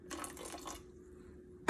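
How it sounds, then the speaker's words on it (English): A small splash of water pours into cornbread batter in a short, soft trickle, then goes quiet before a brief sharper knock at the end. "So I'm going to add just a smidge of water."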